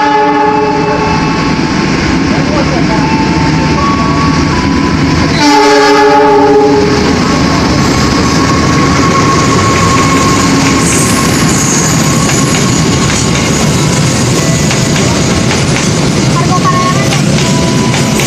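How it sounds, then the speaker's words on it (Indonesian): Argo Parahyangan passenger train running straight through a station platform without stopping, a loud close rumble of wheels and carriages throughout with a blaring multi-tone horn blast in the middle. "Jalur 4 melintas langsung kereta api Argo Parahyangan."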